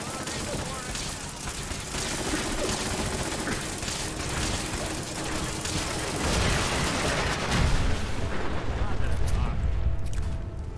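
Gunfire against a sentry bot in Fallout 4, dense rapid shots and mechanical clatter forming a loud, continuous barrage that swells toward the end.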